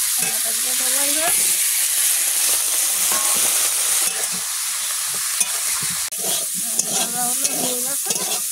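Tomatoes and vegetables fry with a steady sizzle in a pan for a Bengali dish of potato with drumstick flowers, stirred in rhythmic bursts near the start and again toward the end.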